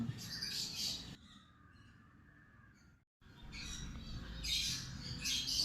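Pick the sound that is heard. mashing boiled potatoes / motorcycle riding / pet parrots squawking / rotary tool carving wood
pet parrots squawking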